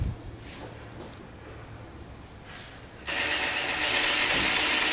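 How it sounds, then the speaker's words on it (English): A Forstner bit cuts into wood on a shop-made wood lathe. A quiet mechanical whir gives way to a loud, steady, hissing cutting roar that starts abruptly partway through and carries on to the end. "I'm just watching the cutting edge on the Forstner bit"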